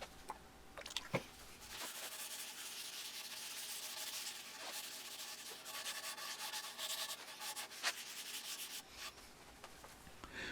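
Sandpaper rubs back and forth across a wooden waffle-pattern cutting board in steady close strokes, a soft continuous scratchy hiss with a few light knocks, no talking.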